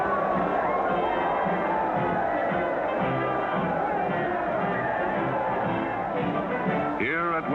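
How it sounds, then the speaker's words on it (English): A deep roar from thousands of cheering people greeting a princess on a royal occasion swells steadily and fills the air, with a voice speaking over it throughout. "A deep-throated roar swells in volume as cheering thousands greet the princess."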